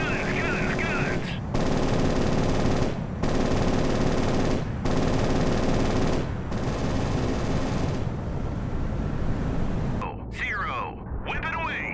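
Naval guns firing in the Sea Power naval warfare game, India versus Pakistan battle: loud rapid bursts of gunfire in four long volleys separated by brief gaps, then fading into rumble with a few sharper sounds at the end.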